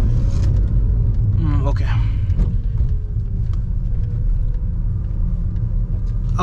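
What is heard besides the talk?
BMW 320d accelerating hard in sport mode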